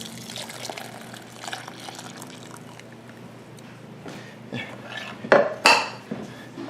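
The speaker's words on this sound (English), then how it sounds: "the cream that we've been simmering is now done too. So I'm now going to add that also into our mixture." Simmered cream is added to a dark chocolate mixture for pots de creme, with a soft liquid pour and clinking of a pot and utensils, ending in a few sharper metallic knocks.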